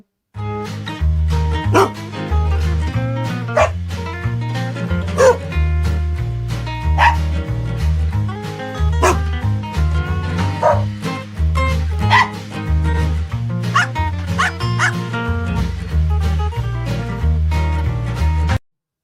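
Repeated dog barks and yips ring out over a steady, loud musical beat, continuing throughout.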